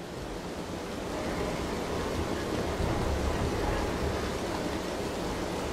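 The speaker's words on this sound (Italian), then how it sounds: "Intanto entra l'acqua per far salire sulla nave" Water rushing in to let the player board a ship in the video game Dishonored, a steady broadband whooshing flow that swells a little after the first second and then stays constant, with no voices.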